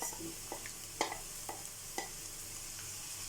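Garlic-ginger paste sizzles and fries in a hot pan while a spoon stirs it with a few light scraping taps; steady, fairly quiet.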